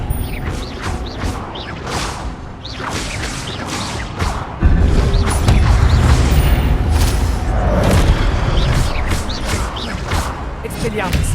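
Spell effects from the Hogwarts Legacy video game, with the Expelliarmus disarming charm cast amid a dense, loud mix of booms, whooshes and impacts that swell abruptly midway into a heavier, sustained rumble.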